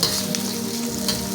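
Onion, garlic and ginger sautéing in a pan for chicken patola and miswa soup, giving a steady, close sizzle and crackle of hot oil throughout.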